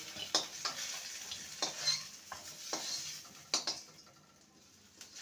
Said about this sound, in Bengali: ওলটাকে সুন্দর করে ভেজে নিয়েছি এবার এগুলোকে তুলে নেবো